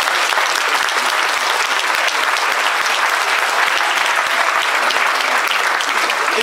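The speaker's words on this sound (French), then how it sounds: "Vous pouvez vous applaudir" Large concert crowd at a 20th-anniversary show of a French banda brass band applauds loudly and steadily, a thick continuous roar of clapping from start to finish.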